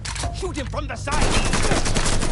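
Gunfire erupts in Mafia III, a dense burst of close, loud shots that takes over after a short stretch of speech-like sound and keeps rattling to the end.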